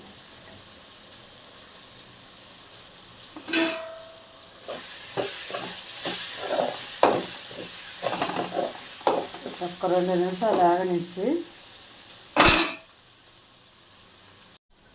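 Soft hiss of spices and crushed garlic frying in hot oil for tempering, broken by clinks of stirring and a sharp tap, with a person speaking briefly over it.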